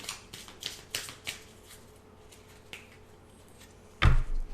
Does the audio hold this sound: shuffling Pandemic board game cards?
yes